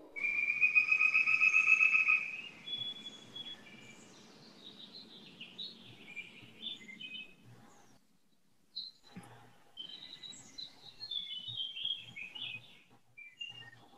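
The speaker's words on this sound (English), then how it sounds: "we all just take a moment of silence and listen to these birds" Birds chirp and sing outdoors in clear whistled phrases, a loud bright trill at first, then scattered shorter calls and tweets alternating with quiet pauses.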